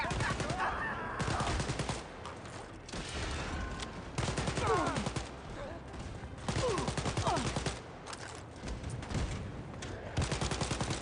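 Rapid bursts of automatic gunfire and explosions from the first-person shooter Wolfenstein: Youngblood, loud and dense throughout, with brief lulls between volleys.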